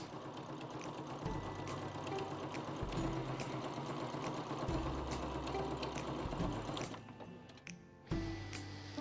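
An SS 2599 sewing machine stitches a decorative pattern, its needle mechanism running in a rapid mechanical whir with rhythmic clicks and short pauses between bursts, fairly quiet and close.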